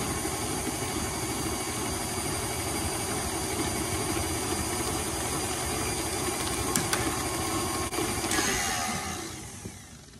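An electric mixer beats eggs one at a time into blackberry cake batter, a steady close whirring drone running unbroken for about ten seconds before easing off at the end, with no voices over it.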